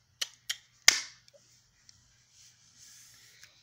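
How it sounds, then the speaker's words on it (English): Cartoon gunshot from an animated school episode: three quick sharp bangs, the third loudest with a short ringing tail, followed by faint scattered clicks and rustle. "Did I just hear a gunshot?"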